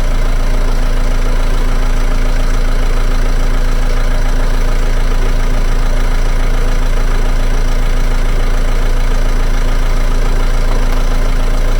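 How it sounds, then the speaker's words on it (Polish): A Ford Mondeo Mk5 engine idles steadily after an alternator replacement, a constant close mechanical hum and whir with a deep low drone that holds even throughout, with no talking. "Ja idę uruchomić silnik i będziemy patrzeć"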